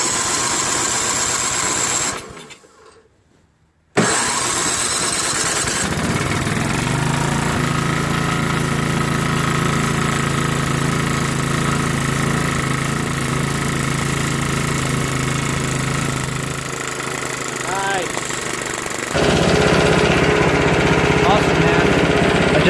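A Yard Machines MTD 5.5HP 24-inch snow blower engine runs loud and close with a steady buzzing drone, briefly cutting out before restarting and settling into a constant run, with talk faintly in the background.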